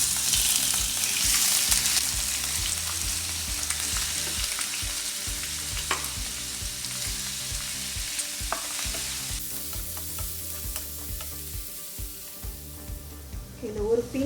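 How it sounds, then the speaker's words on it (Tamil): Prawns frying in about two teaspoons of hot oil in a pan give a loud, steady sizzle with crackling spatter throughout, occasional stirring clinks, and a soft voice in the background. "எண்ணெய் சூடாயிடுச்சு. இதில் ஏறாவை சேர்த்துக்கலாம்."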